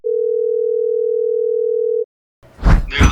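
A steady telephone tone hums for about two seconds as a call is placed, then stops abruptly and is followed by brief muffled handling noise.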